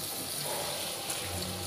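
Water pours steadily into a pot of taro and hilsa fish curry, a soft continuous gushing with no talking.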